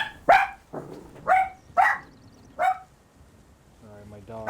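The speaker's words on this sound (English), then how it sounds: "Sorry, my dog" A pet dog barks four sharp, loud times at close range, spaced roughly half a second to a second apart, then a person begins speaking.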